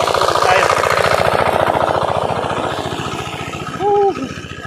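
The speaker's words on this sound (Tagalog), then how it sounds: "medyo maingay nga lang yung makina dahil nakapagod tayo" A loud engine chugs steadily throughout with a rapid, pulsing rhythm, close up, and a brief tonal squeak near the end. The engine is tired and overheated.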